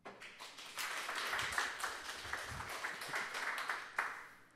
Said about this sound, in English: you guys give a warm round of applause for QP